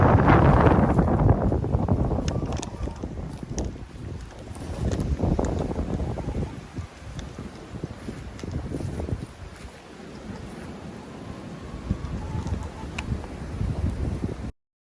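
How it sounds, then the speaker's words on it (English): Strong, cold winter wind buffets the microphone outdoors beside a chicken run, roaring in loud, uneven gusts that swell and ease for the whole stretch before cutting off abruptly. "it is windy and crazy cold out here"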